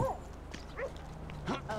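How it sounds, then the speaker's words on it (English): A dog barks in Grand Theft Auto V during a firefighter mission, with several short yips and barks at moderate distance over a steady low game rumble. "Hi, dog."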